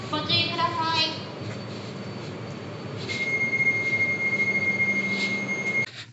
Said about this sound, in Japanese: この栗駒高原で320キロのはやぶさ号通過見ていきたいと思います